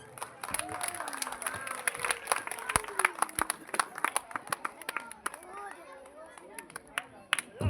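Applause from an audience at a Republic Day celebration as a medal winner comes onto the stage, scattered uneven clapping mixed with crowd chatter and voices over it.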